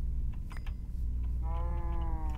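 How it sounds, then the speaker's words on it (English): A cow moos in the video game Minecraft, one drawn-out harmonic low call near the end over a steady loud background rumble, with faint thin game sounds before it. "No. I didn't tell you to moo. You cow. Moo."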